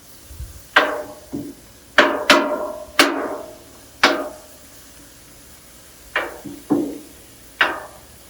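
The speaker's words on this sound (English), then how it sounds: "Gonna chop it up some" Sharp metal spatula chops striking a hot Blackstone griddle while cutting up loaded fries, about a dozen crisp knocks in uneven bursts, close and loud with short ringing tails, no talking.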